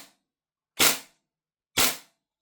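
A Marksman IX AR9 gas blowback airsoft rifle fires two sharp, loud shots about a second apart, each a crisp close crack with a short decay into silence.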